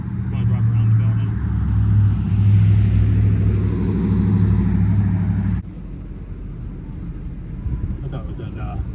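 Car engine rumbling steadily from inside the vehicle while driving around a bakery factory building, loud low drone that drops in level partway through, with people talking over it.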